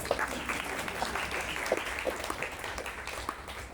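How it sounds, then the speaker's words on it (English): Audience at a Toastmasters club meeting claps steadily, a modest group applause with individual claps standing out. "Yes, you may clap."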